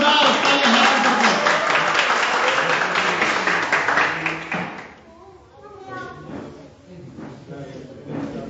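An audience at a Hindi poetry gathering, a Rangotsav kavi sammelan in Purulia, West Bengal, gives several seconds of loud, dense applause. The clapping fades and a single voice then begins speaking.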